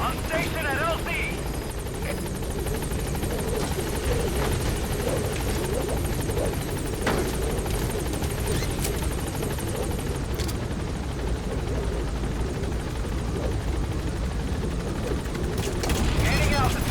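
The Pequod helicopter in Metal Gear Solid V: The Phantom Pain sets down at a landing zone, its rotor thrum loud and steady throughout, with radio voices speaking over it.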